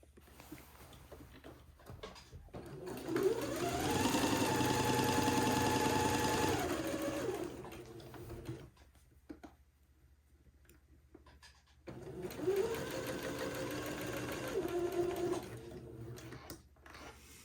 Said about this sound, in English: come across that seam and start sewing up the corduroy